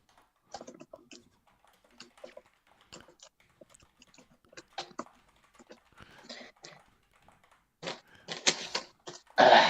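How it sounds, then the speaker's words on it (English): Sparse, irregular keystrokes tap on a computer keyboard, soft and close at first, then growing denser and louder toward the end. "Andy, stop singing and start typing."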